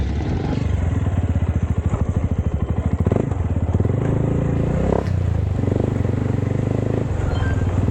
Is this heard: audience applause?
no